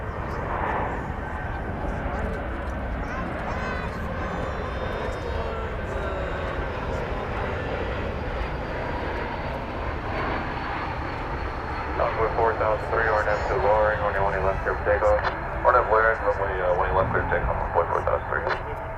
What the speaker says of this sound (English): an Airbus A380 is on the final approach now to this here airport